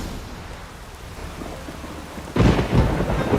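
A thunderstorm in The Witcher 3 rolls in, steady rain hissing until a loud, close thunderclap bursts out near the end and rumbles on.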